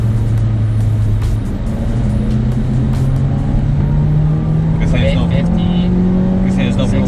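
An Infiniti G35 drives in manual shift mode, its engine droning loud and steady inside the cabin while the pitch slowly climbs. Tire and road noise run underneath, with brief clicks near the end.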